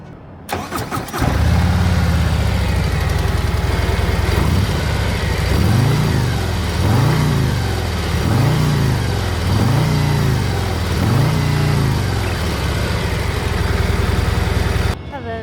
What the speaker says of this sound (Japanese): ではエンジンをかけてみましょう